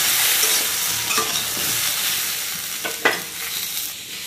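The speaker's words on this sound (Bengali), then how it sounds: "এখানে হচ্ছে মাছের ঝোলের সবজিটা ভাজা" Vegetables for a fish curry sizzle steadily in a hot pan, with a few scraping stirs and clinks of a utensil partway through.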